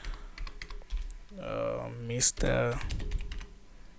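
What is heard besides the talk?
typing on a computer keyboard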